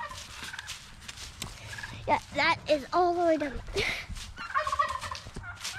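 Turkeys gobble in a pasture, with a tom calling in bursts of several throaty rattling calls through the middle of the clip, close and moderately loud, with people talking before and after.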